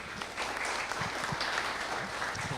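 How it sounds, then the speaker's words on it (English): Audience applause at a steering committee meeting, a steady wash of clapping from a roomful of people that carries on evenly for the whole stretch. "How about a round of applause for them?"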